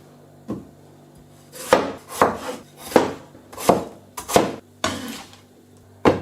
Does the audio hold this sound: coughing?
no